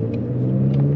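A car engine idles steadily after a Sea Foam fuel treatment, a loud, close, even rumble with a slight rise in revs and no speech.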